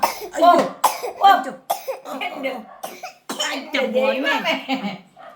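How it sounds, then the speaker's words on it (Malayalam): Several short, harsh coughs break up ongoing talk, close to the listener, with voices speaking in between. "ഭയങ്കര ചുമയൊക്കെയാണ്."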